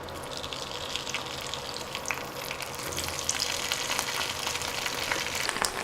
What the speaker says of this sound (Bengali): তেল গরম হয়ে এলে ঢ্যাঁড়সগুলো দিয়ে দিচ্ছি।